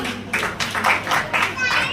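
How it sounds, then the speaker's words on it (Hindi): An audience at a Jain temple event claps for a small child in fancy dress, a quick burst of loud clapping mixed with speech from a person talking over it. "बहुत सुंदर जोरदार तालियां"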